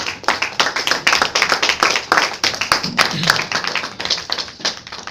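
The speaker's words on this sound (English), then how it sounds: "Can you just give him a round of applause?" Audience applause after a speech at a speaking club session, dense steady clapping from many hands lasting throughout, fairly close and loud with no talk over it.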